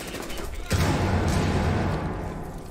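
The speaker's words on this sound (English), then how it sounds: "I'm gonna throw a concussion grenade in there" A concussion grenade detonates in a shooter video game: a sudden loud blast about a second in, followed by a rumbling, crackling decay.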